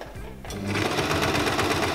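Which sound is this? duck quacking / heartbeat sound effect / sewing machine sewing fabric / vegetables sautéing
sewing machine sewing fabric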